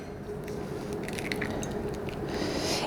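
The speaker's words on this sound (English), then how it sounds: "we are going to take 2 eggs, crack them into a bowl here" Two eggs are cracked into a kitchen bowl, giving short wet squishes and small clicks over a steady background hum, close and fairly quiet, with a brief splashing pour near the end.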